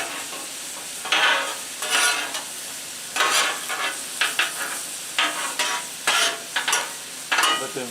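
Chicken and vegetables for lemon chicken cooking on a Blackstone griddle, a continuous close sizzle broken by repeated bursts of spatula scraping and stirring, no talking.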